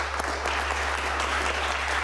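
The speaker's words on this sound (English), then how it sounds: "The same people are clapping." A debate audience in Grimsby claps in a short burst of steady applause from many people, close and dense, with a low mains hum underneath.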